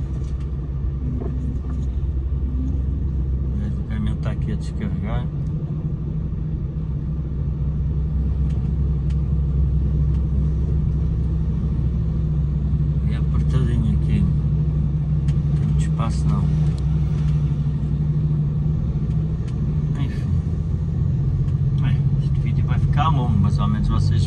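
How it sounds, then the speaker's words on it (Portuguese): A truck engine idles as a steady low rumble while the truck is unloaded on a building site, close by and constant throughout, with faint clanks and knocks on top. "O caminhão está aqui a descarregar."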